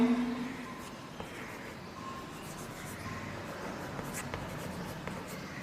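Chalk or marker writing on a classroom board during a Hindi grammar lesson, with quick scratchy strokes and taps in irregular bursts over a steady room hum, near and fairly faint without talk.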